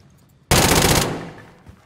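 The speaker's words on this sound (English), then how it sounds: "Someone else is shooting." Sudden burst of rapid automatic gunfire in a multiplayer shooter video game, a loud close rattle lasting about half a second and then decaying into a reverberant tail, with quiet background before it.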